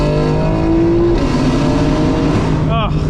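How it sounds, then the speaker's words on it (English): A 2025 BMW M4 Competition xDrive in M1 mode drops through gears at night, its engine note falling and swelling with exhaust burbles, heard loud from inside the cabin as the driver talks over it. "Burbles are automatically turned on when I put it in M1. Downshift."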